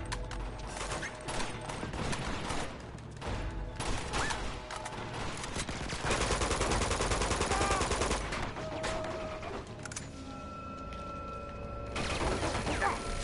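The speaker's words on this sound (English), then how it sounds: "there's the machine gun" Dense, sustained machine gun fire and overlapping gunshots in the video game Uncharted 2: Among Thieves, loud and continuous throughout with game effects layered on top.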